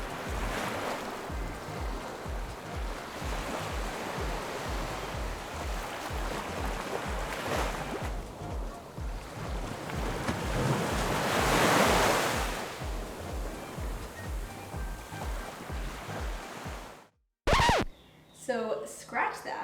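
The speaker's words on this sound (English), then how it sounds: "sitting on my balcony, looking at this beautiful ocean" Ocean waves heard from a balcony on Koh Tao, Thailand, a steady rushing wash of surf with gusty wind noise and a swell of louder breaking midway, followed by a brief bit of speech at the end.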